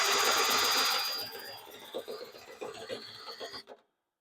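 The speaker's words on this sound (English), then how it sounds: "the shop vac now is pulling all that lint" A shop vac pulls lint out of a clothes dryer vent with a loud, steady suction roar that fades after about a second, followed by irregular rattling and scraping before it cuts off into silence.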